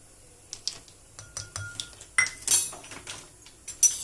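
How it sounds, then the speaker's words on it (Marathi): Milk powder is stirred into warm milk, giving sparse clinks and scrapes of a spoon against a metal vessel, close by and irregular with short pauses. "हे चांगलं असं हलवून घ्यायचं, कोमट दुधात घ्यायचं."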